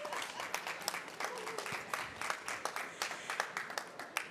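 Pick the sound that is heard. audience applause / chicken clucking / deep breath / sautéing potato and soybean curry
audience applause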